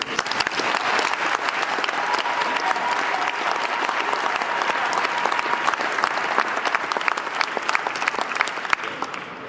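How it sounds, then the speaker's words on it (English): A large audience applauds the factory workers at the grand opening reception of the Factory_OS and Lennar Mare Island plant, with dense, steady clapping that holds loud and even for about ten seconds and no talking over it. "I say please applaud the men and women that work here"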